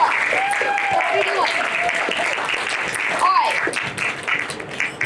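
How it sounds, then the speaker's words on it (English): A theater audience applauds for three magic-show volunteers, broadband clapping running steadily through the whole stretch, with whistling and a voice rising over it. "let's get a big round of applause for Isaac, Dave, and Camilla"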